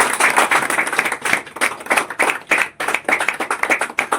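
Audience applause at a welcome ceremony for a doctor in Azamgarh, steady dense clapping that rises and dips in waves across the room, with no talk over it.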